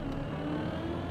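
Race car accelerating in the video game Trackmania: a steady engine whir with a sustained tonal hum, moderately loud and continuous, with no talking over it.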